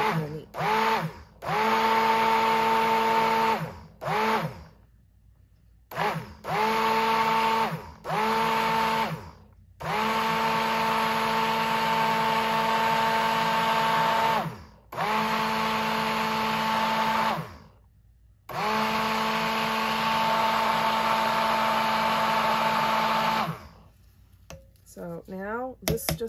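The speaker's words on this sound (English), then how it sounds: "And then you're going to blend it for about a minute." An electric stick blender whirring through basil peppermint soap batter in loud, steady bursts of several seconds each, separated by short pauses, with a voice talking between runs.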